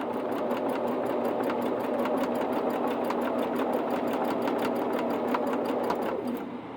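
A sewing machine runs at a fast, even clip, its rapid rhythmic stitching sounding close and steady before slowing to a stop.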